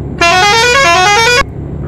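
A truck horn in Euro Truck Simulator 2 sounds in one loud, sustained blast lasting just over a second, then cuts off abruptly, leaving the low hum of the driving game.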